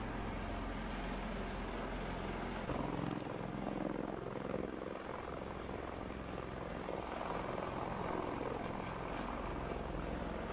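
Helicopter in the farming simulation game Landwirtschafts-Simulator 17, an air rescue chopper flying and setting down, giving a steady, loud rotor and engine drone that stays constant throughout with no talking.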